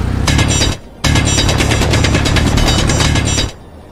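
A hand drill grinds into rock for ore in the Space Engineers game: a loud, close, rapid mechanical chatter runs in two bursts separated by a brief pause, then cuts off.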